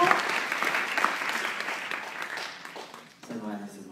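An audience at a French entrepreneurs' stage event claps as a guest jumps on stage. The applause is dense and moderately loud, thins gradually, and a voice begins speaking right at the end.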